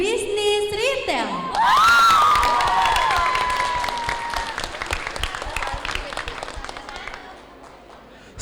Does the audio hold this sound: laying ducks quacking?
no